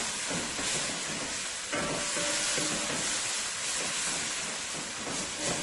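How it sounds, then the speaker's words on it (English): Steady hissing sizzle of food frying in hot oil, continuous and close, with faint crackles throughout and no voices. "this is frying up so nicely here into the oil."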